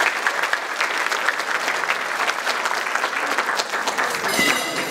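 Sustained, dense applause from a large crowd at a silver anniversary ceremony, steady and loud from start to finish without a break.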